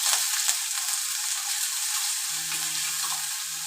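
Chopped ginger, garlic and curry leaves fry in hot oil for a fish curry, making a bright, constant sizzle close by with light stirring sounds and no voices.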